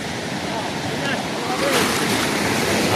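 Ocean waves roll and wash in a continuous broad roar off Kamalu Island, General Nakar, Quezon, with gusty wind noise on the microphone throughout.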